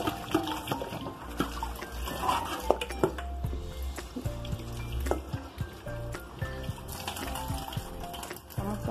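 A cooking pot handled near running water, with frequent metallic clinks and knocks over a trickling tap, busy and close.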